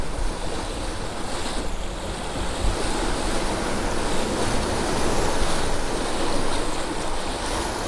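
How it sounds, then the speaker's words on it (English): Steady wind and rushing waves surround a sailboat in the South Atlantic, running at about 7.5 knots with two reefs in the mainsail and nearly the whole genoa set; broadband and continuous, with no talking. "there's a good wind"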